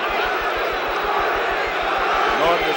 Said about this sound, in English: Now the fans are cheering for Ali.